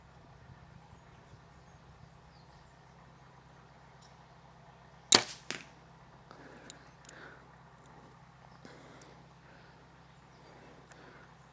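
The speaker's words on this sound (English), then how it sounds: "louder your vanes and your arrow flight is, the more chance you're going to get of an animal hearing it and potentially ducking" A Gold Tip Hunter arrow leaves a Mathews Lift 29.5 compound bow with a single sharp release crack and a short whoosh, heard alone against a quiet outdoor background with a faint hum.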